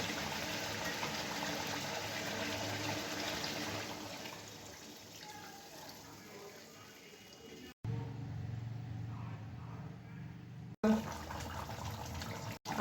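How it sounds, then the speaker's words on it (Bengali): Water is poured into a pan of spiced fish curry during Bengali-style cooking of koi fish, heard as a steady broadband rush and sizzle that fades over several seconds and then returns after brief cuts. "এবার আমি মাছ দিয়ে পরিমাণ মতো জল দিয়ে দেব।"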